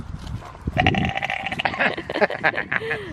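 A sheep bleats several times in a farm setting in the Cotswolds, with nasal, wavering calls close by and other animal noises and people talking around it.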